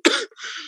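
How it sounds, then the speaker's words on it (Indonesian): A single sharp cough bursts out, followed by a softer, raspier throat-clearing tail, close and fairly loud during an Indonesian podcast conversation. "Maaf ya, saya batuk"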